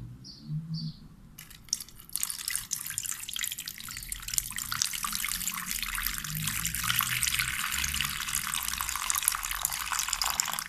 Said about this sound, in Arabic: باش نحطهم هنا ونصب عليهم شوية ماء